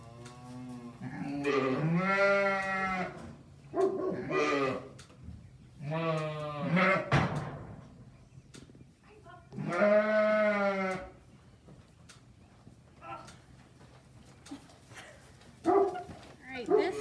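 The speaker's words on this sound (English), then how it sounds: "this is my little herd of sheep. We have 4 babies and 4 mamas." Four ewes and four lambs in a small farm flock bleating in a series of distinct calls, some loud and close, others fainter, with stretches of quiet between and someone talking at times.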